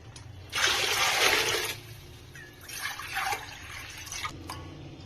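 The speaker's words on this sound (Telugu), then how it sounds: "3 గిన్నెలు వాటర్ పోసుకుంటున్నానండి" Measured cups of water are poured into a thick-bottomed pot in two splashing bursts separated by a short pause, with a faint trickle and drip at the end.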